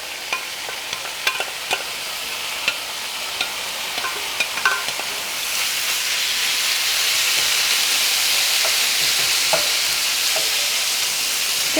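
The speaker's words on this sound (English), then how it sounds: "I'm going to mix it with these juices. I'm going to return it back into the pan. And just allow it to finish cooking." Taco meat sizzling in a pan with its juices, a bright steady frying hiss punctuated by scraping stirs early on, then a louder continuous sizzle as the meat finishes cooking.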